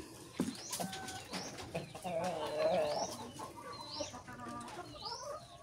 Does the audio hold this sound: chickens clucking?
yes